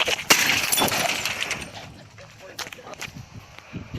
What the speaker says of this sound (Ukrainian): Лягайте на землю, граната!